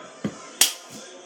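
A plastic cup is picked up during a cup song rhythm, giving a few short taps and a sharper slap spaced apart, close and fairly faint.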